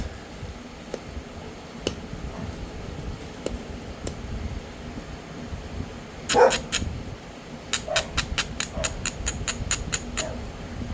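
Dogs barking outdoors at night, probably set off by coyotes: a loud burst of barks in the middle, then a quick series of sharp, fairly close barks over a steady fan-like hum.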